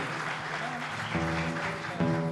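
Loud applause rises from the crowd at a church Christmas carol program, thick steady clapping with held musical tones joining underneath partway through.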